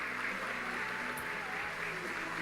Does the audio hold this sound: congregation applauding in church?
yes